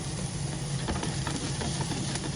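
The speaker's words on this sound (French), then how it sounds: "vous faites bien revenir votre oignon et votre céleri" Chopped onion and celery sautéing in a pan, a soft continuous sizzle with faint stirring clicks, low and steady with no voices.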